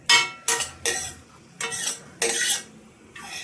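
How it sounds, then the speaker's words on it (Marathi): Cashews roast in ghee in a pan while a utensil scrapes and stirs in six short, sharp bursts with brief pauses between them, close and fairly clear. "त्याच्यातच मी काजू टाकत आहे। काजूलाही हलकंसं भाजून घ्यायचं आहे आपल्याला।"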